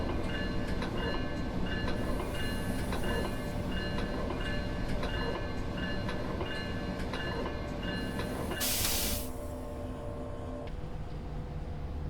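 A MARC Penn Line passenger train in Train Sim World 2021 rumbles steadily with rhythmic wheel clicks and a constant hum, and a short burst of hissing air comes near the end. No voices are heard.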